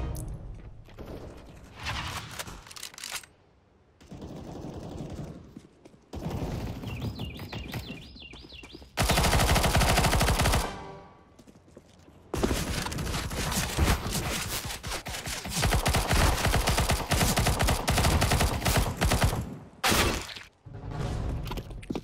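Gunfire sounds out in the CS:GO video game, with loud bursts of shots and impacts in several dense stretches, separated by short quieter gaps and chirpy game sounds.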